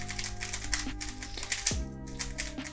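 Plastic speedcube being turned, with clacky, slightly hollow-feeling turns and snappy corner cuts: a quick run of close, loud clicks and clacks in uneven bursts, with no talking.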